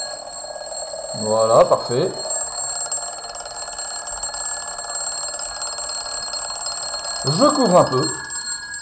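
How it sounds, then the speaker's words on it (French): A loud mechanical alarm clock rings continuously and steadily, set up for a vacuum pump demonstration, while someone talks in French over it with brief bursts of his voice near the start and end. "Nous, on préfère prendre un réveil. Un réveil bruyant, ça va vous rappeler la rentrée."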